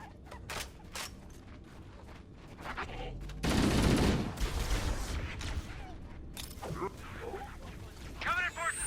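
Covenant guns keep up steady fire in Halo: CE Anniversary. Scattered shots build into a loud, dense volley midway, with more bursts and energy-weapon whines after it, mixed with talk.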